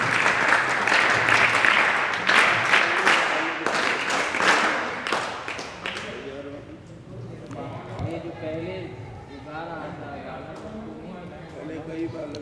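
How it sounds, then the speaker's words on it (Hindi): Applause from an audience welcoming a revered guru at a Sanskrit school gathering, a dense burst of clapping for about six seconds that fades into talking voices and scattered sounds. "सभी लोग एक साथ तालियां बजा करके पूज्य सद्गुरुदेव भगवान का स्वागत करें"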